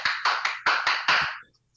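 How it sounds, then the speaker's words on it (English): A group clapping hands together in six sharp, evenly spaced bursts on a talk show, each clap loud and close, then a sudden stop into near silence. "Everybody clap your hands."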